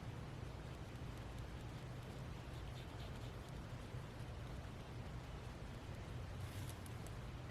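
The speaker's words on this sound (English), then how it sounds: "I can still hear it coming and dripping from the roof into my flower beds." Steady, soft rain patters continuously outdoors, dripping from a roof into flower beds, a dense wash of drips and splashes with no voices.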